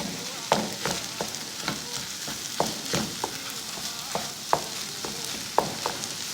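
Kefta meatballs are stirred in a frying pan, a utensil scraping and knocking in irregular sharp clicks over a steady sizzle of frying, close and moderately loud, with no talking.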